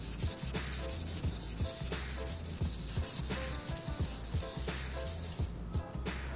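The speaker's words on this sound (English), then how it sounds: "you put it on the sandpaper, you rub it right and left" A diamond scraped back and forth on sandpaper, a steady rhythmic gritty rubbing with even strokes, close and fairly loud, continuing for several seconds before it stops near the end.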